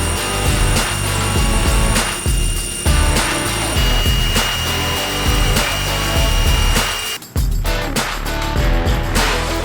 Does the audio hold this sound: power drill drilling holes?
yes